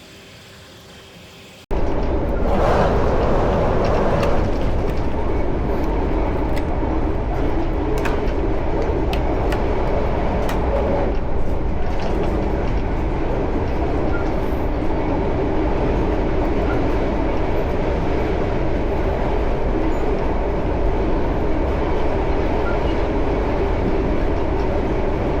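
A train pulls into a station, beginning with a sudden jump from quiet into a steady loud rumble that carries on at an even level with faint rattling and clanks, and no one speaking.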